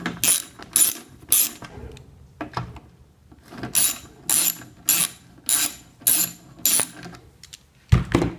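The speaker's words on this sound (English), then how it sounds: "Remove the 2 bolts connecting the track to the motor." A ratchet loosens the two bolts joining a garage door opener's track to its motor. It makes repeated bursts of sharp clicking in a steady back-and-forth rhythm, close and fairly loud, with short pauses between strokes.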